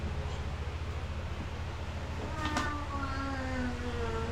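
A cat meows near a doorway at home, one short drawn-out call standing out from steady room noise and faint background talk.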